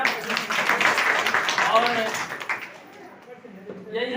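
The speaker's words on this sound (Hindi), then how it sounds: "आपके लिए जोरदार तालियां।" Audience clapping at a Bahujan Samaj Party gathering in Rewa district, a burst of close hand claps that thins out as a voice begins speaking over it.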